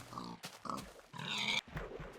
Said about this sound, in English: Pig spotted.